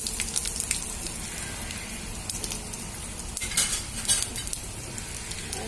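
Ginger pieces frying in hot tempering oil for semiya upma, a steady close sizzle with scattered metallic scrapes and stirring clinks throughout, no voices.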